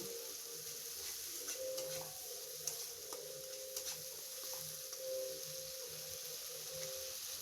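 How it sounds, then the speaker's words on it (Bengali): Spice masala with ground cumin frying in a pan, a soft, steady sizzle with faint stirring scrapes throughout, fairly quiet and distant. "এরপর আমি দিয়ে দেব হলুদ আর স্বাদ মতো নুন এবং ভালো করে মশলাটা আরও একবার কষিয়ে নেব।"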